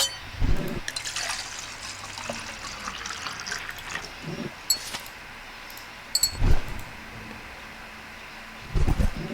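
Water being poured in the game Dear Althea, a thin, soft trickle running across several seconds, broken by a few louder splashy bursts near the start, in the middle and at the end, with no voices.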